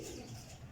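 Pigeons at a breeder's loft give a brief, soft coo that sits quietly within a low, steady background.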